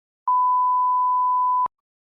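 Censor bleep over a swear word, a single loud steady tone held for about a second and a half that starts and stops abruptly, with silence on either side.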